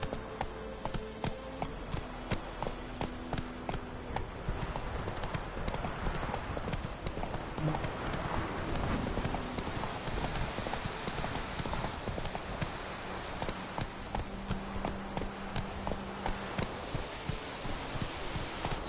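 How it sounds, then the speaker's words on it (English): Hooves of a horse clip-clop steadily at a walk in the Witcher 3 video game, a regular close tapping gait under game ambience and music, with brief speech nearby. "That's it, Roach."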